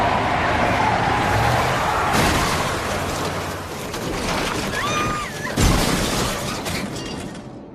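Dramatized car crash on a cold, rainy Christmas Eve night in 1960, a loud sustained wash of rain and road noise broken by a sharp impact and shattering crash midway.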